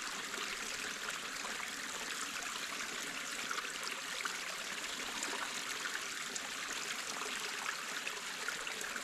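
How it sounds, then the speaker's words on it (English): A freshwater stream flows and trickles steadily, a constant close rush of water with no voices over it. "So I'm just gonna basically follow this stream."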